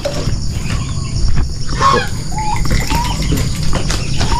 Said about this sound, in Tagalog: Pakita ko sa inyo yung mga sisiyo ng pabo.